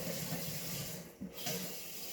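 Tap water runs steadily into a kitchen sink while tomatoes are washed under it, a close, even hiss with a brief dip in the middle as the stream is interrupted.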